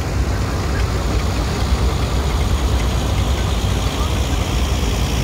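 A 1951 Ford tractor with a Sherman Overdrive transmission idling in a farm club parade, a steady low rumbling engine chug throughout, moderately loud and close.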